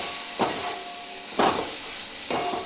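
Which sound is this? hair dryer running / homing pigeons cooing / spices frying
spices frying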